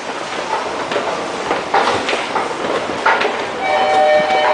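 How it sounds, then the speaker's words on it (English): A Seoul subway train pulling into a station, a steady rumbling and rattling roar with some squealing metallic tones toward the end, fairly loud and close, with no clear talking. "My train's coming."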